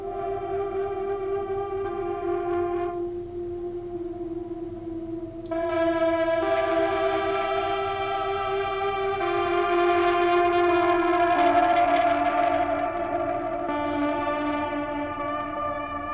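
Electric guitar fed through Microcosm, LVX, Mercury X and Lossy effects pedals, giving a sustained wash of echoing, reverberant tones that swells and thickens over time, with a sharp click partway through and no voices.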